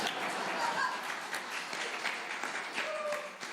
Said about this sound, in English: I'll tell you why you're clapping right now.